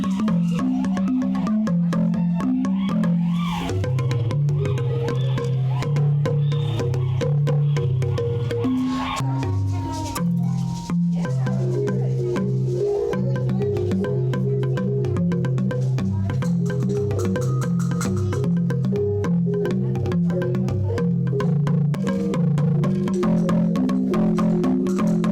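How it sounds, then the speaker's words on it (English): A marimba played with mallets rolls through a steady, continuous stream of wooden tones with a sustained low register, close and fairly loud throughout. "So this is a type of marimba"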